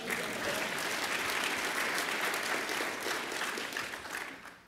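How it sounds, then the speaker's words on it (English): A conference audience breaks into steady applause, dense clapping that holds for a few seconds before tapering off. "let's applaud him now anyway"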